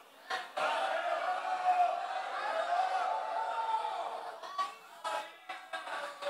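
A church congress congregation in Brazil shouts a football team's name, a sustained mass of voices swelling loudly for several seconds, then breaking into shorter bursts of cheering and chatter.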